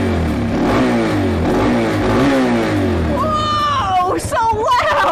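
A motorcycle engine idles with a low rumble, then revs up and down under the throttle in several rising and falling pulls, close and loud, with voices in the background.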